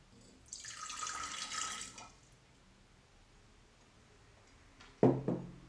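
Water poured into a jug in a home science demonstration, a short splashing pour of about a second and a half, followed by quiet and a couple of small clinks near the end.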